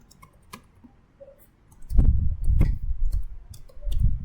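Keys clicking on a computer keyboard while an IP address is typed, sparse taps at first and then a denser run of close keystrokes.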